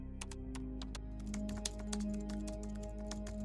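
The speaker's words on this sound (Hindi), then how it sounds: "कीबोर्ड चलाने का आवाज़ तेज हो गया था।" Rapid clicking of fast typing on a computer keyboard patters along over a steady low hum and droning tones, close and fairly quiet.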